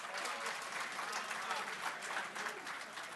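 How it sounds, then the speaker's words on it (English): A crowd at an awards ceremony claps steadily, a dense patter of applause that holds at an even level throughout. "A big round of applause."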